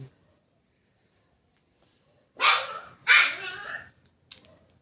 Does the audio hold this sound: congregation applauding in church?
no